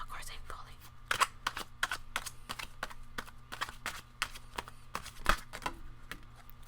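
Tarot cards are shuffled by hand at close range, a string of quick, crisp riffling snaps and taps with irregular spacing and a low hum underneath.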